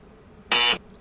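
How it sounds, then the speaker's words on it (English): A single loud electronic buzzer blares for about a quarter second, harsh and tonal, standing alone against quiet background. "Buzzer."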